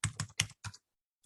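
Product codes are typed on a computer keyboard, including its number keypad: four quick, crisp, close key clacks in a fast burst, then silence and one faint final tap.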